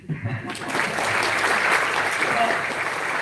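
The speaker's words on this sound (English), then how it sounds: "I think you should clap for this." A lecture-hall audience at a first-year induction breaks into steady, dense clapping that starts abruptly and holds at an even level throughout, with a brief voice at the very start.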